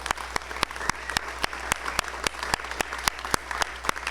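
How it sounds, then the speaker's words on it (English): A crowd applauds at the Illinois State Fair ribbon cutting, steady outdoor clapping with sharp regular clicks cutting through. "let's give a round of applause to all the folks who put together this wonderful fair"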